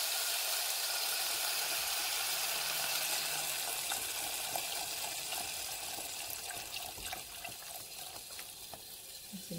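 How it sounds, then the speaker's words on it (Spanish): Broth poured into a pot of Maruchan instant soup, a steady close liquid pour that runs continuously and eases off slightly toward the end, with no talking. "ahora le vamos a agregar el caldito"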